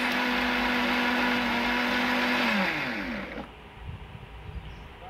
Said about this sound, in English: So let's run the mixer for about 20 to 25 seconds.